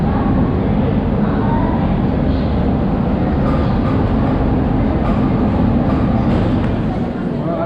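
Railway platform at Amritsar station just after a long-distance train arrives, a loud continuous rumble of the train and station bustle filling the whole stretch, with a faint hint of voices.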